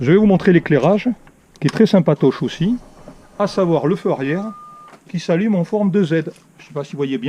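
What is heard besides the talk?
No everyday noises stand out.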